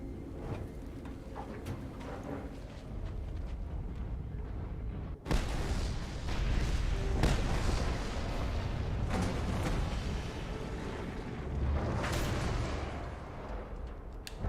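Fuel storage tanks blowing up in the Mad Max video game, a continuous dense roar of explosions and heavy booms with sharper blasts layered throughout, loud and sustained for the whole stretch with no talking.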